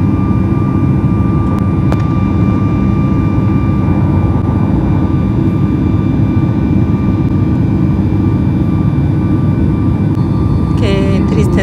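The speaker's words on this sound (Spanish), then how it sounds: "ya después de que nos tocó nuestro turno, ya despegamos" Passenger jet taking off from Mexico City, heard from inside the cabin as a loud, continuous low roar and rumble that holds steady throughout, with faint chimes and clicks near the end.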